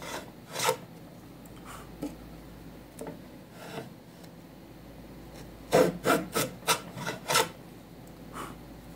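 Hand saw pulled through wood to cut an angled shoulder on a dovetail tenon, a few scattered rasping strokes followed by a quick run of five or six close, louder strokes, no talk.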